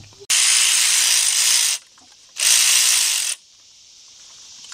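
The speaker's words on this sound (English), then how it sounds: "Let's get all these bolts out before I say something I'm going to regret." A ratchet wrench spins out engine bolts during a timing chain replacement on a Traverse, Enclave or Acadia-type engine, making two long, loud, even clicking runs separated by a short pause, with no talk.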